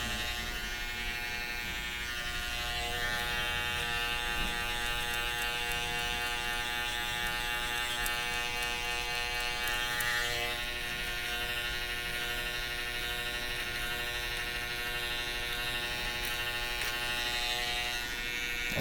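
Electric clippers buzz without a break during a haircut while the neck is being shaved. The whine is close, steady and high-pitched, with no speech over it.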